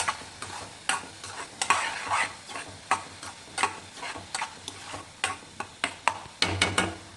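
A spoon stirring masala through hot oil in a pan for Maharashtra-style misal pav, making repeated scraping strokes in an uneven rhythm over a soft, constant sizzle.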